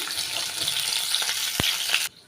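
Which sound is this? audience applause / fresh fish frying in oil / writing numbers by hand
fresh fish frying in oil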